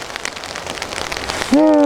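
Rain falling hard while bass fishing on Vancouver Island, a dense close patter of drops on surfaces, ending in a sudden loud tonal sound that cuts over the rain.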